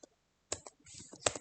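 A few quick taps on a computer keyboard sound close and faint, an isolated click followed by a short burst of keystrokes.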